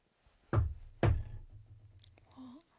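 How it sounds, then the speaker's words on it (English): Two sharp knocks on a truck's rear window close by, about half a second apart, followed by a low hum and a faint rising squeak. "someone was knocking on the rear window right next to my head"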